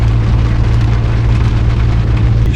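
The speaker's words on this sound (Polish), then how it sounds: "tu pada deszcz" Steady, loud rain drums down in a dense, constant hiss, with a low droning hum underneath, as if heard from inside a car.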